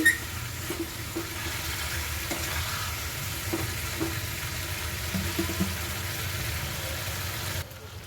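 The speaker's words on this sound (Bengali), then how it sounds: "এবারে আমি ভালো করে কষে নিই।" Spices cooked down with a splash of water sizzle and fry steadily in a pan for a broccoli vegetable dish, with soft scraping and stirring taps of a spatula running throughout at close range.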